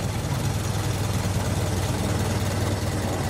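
A Ford Model T engine idling in neutral, a steady low, rumbling drone with a dense, even vibration and no change in pace, close and fairly loud, with no talk over it.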